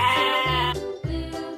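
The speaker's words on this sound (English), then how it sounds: "Sheep." A sheep bleats on a farm, two wavering, nasal bleats in quick succession, close and fairly loud with nothing else heard.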